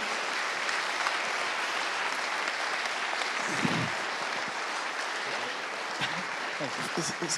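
Sustained applause from a conference audience at a security event's closing ceremony, honouring the organisers, a dense steady roar of many hands clapping throughout with a few louder individual claps near the end.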